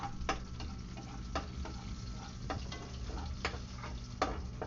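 Garlic frying in a pan for pork adobo gives a steady, quiet sizzle, broken now and then by light ticks and clinks from stirring, with no voices.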